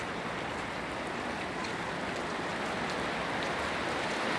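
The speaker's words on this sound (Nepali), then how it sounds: "ओहो ल हेर्नुहोस् पानी पर्नु भएको" Steady, dense rainfall pattering on surfaces outside a house in Saudi Arabia, a continuous even hiss with no pauses, heard alone without talk.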